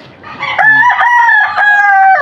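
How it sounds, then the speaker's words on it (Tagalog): Rooster crowing loudly and close in a Filipino backyard coop of gamefowl, with chickens clucking around it; a single drawn-out crow with clear harmonic tones, no talk. "Yan, mga lugon yung ating mga manok."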